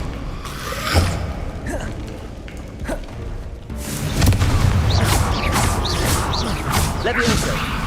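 A Confringo fire spell from Hogwarts Legacy, heavy whooshing blasts and rumbling impacts with crackling debris, loud and close, swelling into a denser roar partway through.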